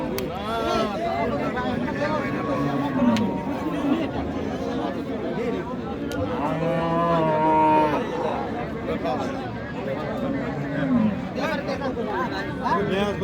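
A Friesian cow with her calf moos at the Raniganj cattle market in Dinajpur, with several drawn-out, rising and falling calls close by over a steady hum of crowd chatter and bargaining voices.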